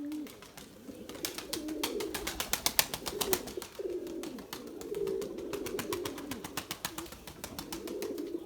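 A white pigeon coos in repeated low, throaty phrases, close and clear, while rapid wing flaps and clattering bursts sound around the landing.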